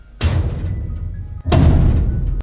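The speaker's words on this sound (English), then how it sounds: "After the staff pushed Somi's body into it, they suddenly heard strange knocking sounds." Two heavy, booming thuds ring out from a morgue freezer in a horror film, each a loud low slam with a long rumbling tail, followed by a sharp tap at the end.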